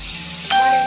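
Potatoes hitting hot mustard oil in a pan, a sudden close sizzle that bursts in partway through a brief moment and keeps hissing steadily.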